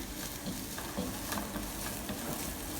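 Spice powders being stirred into a banana flower cutlet mix in a hot pan, a soft continuous sizzle with light scraping stir sounds.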